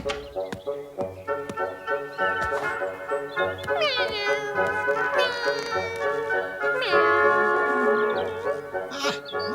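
A cat meows several times in an animated short, the drawn-out cries rising and falling over a steady music score that fills the background throughout.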